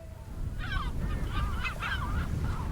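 Herring gulls call in a short burst of several squealing, honking cries over a low, rumbling outdoor wash, moderately near and with no voices.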